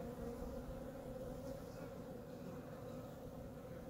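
Wet honey bees buzz in a close, continuous drone, a steady hum without breaks filling the whole clip at low loudness, with no talking.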